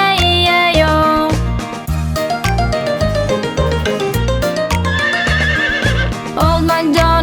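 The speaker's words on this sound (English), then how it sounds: "With a neigh-neigh here and a neigh-neigh there, here a neigh, there a neigh, everywhere neigh-neigh." A horse neighs and whinnies repeatedly within a lively children's farm-animal song, the calls loud and close over steady rhythmic music.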